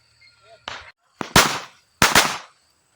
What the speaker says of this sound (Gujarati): અત્યારે તમારો ભાઈ મિત્રો ફટાકડા ફોડવાના છે